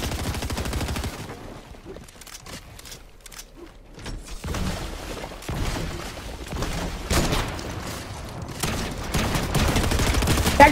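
Rapid bursts of gunfire from the video game Fortnite crackle almost continuously, loud and dense, with a brief lull early on before heavy shooting resumes and builds toward the end.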